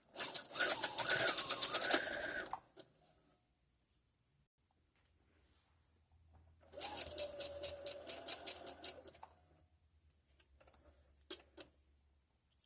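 A sewing machine sews a zigzag stitch on a cat bed made from scrap fabric. Two rapid, close-up bursts of rhythmic needle clatter are separated by a pause, and a brief quieter run follows near the end.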